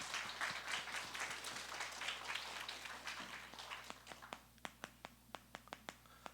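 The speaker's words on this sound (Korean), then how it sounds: "우리 좀 더 크게 하나님께 영광의 박수를 올려드립시다" Congregation applause during a Korean church service, a soft, dense patter of clapping that thins out into a handful of scattered, distinct single claps.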